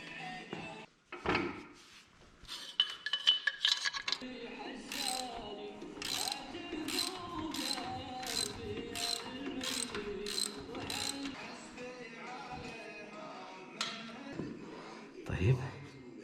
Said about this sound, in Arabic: الحين نفك المسامير اللي في الخلف